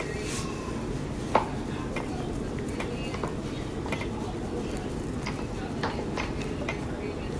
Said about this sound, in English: Now you're gonna cut your tomatoes into 4 different slices.